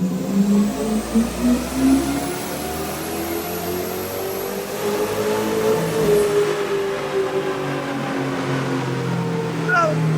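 A high-horsepower Jeep engine held at very high RPM, a loud, strained, steady roar with a slowly shifting whine, close by, with voices speaking over it.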